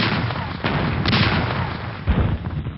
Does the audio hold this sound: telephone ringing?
no